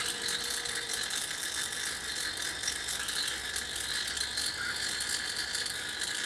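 A mini titration kit dispensing a measured dose of titration solution into an oil sample, heard as a steady, fine ratcheting clicking that runs continuously and fairly close, with no talk over it.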